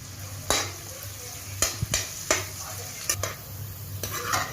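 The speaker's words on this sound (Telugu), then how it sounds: "2 స్పూన్స్ క్యాప్సికమ్ ముక్కలు, ఒక పండిన పచ్చిమిర్చి, చిటికెడు సాల్ట్ వేసుకుని హై ఫ్లేమ్లో మాత్రమే వేయించుకోవాలి." Capsicum pieces and a ripe green chilli fry with a pinch of salt over high flame for egg rice. A steady close sizzle runs throughout, cut by several sharp scrapes and knocks of a spoon stirring in the pan.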